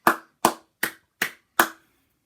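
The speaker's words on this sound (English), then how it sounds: "A big round of applause." Five sharp, evenly spaced hand claps sound at a school assembly, each loud and close with a quick decay and silence between.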